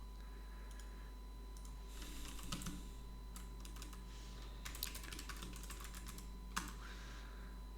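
Code being typed on a computer keyboard, a steady patter of close, soft key clicks in uneven bursts with brief pauses, over a constant low electrical hum.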